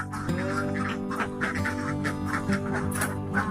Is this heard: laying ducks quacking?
yes